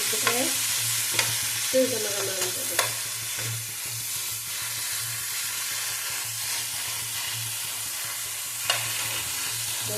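Ingredients for a doddapatre (Indian borage) gojju roast in a pan, giving a steady dry sizzle with repeated scraping stir strokes and a low hum underneath, with no voices.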